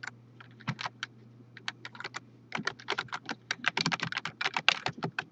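Quick bursts of typing on a computer keyboard, close and crisp, sparse at first and then a dense rapid run of keystrokes over a faint steady hum, with no talking.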